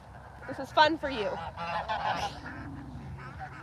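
Farm ducks and geese, worked up before rain, honk loudly in a rough, overlapping chorus at close range while a person talks among them.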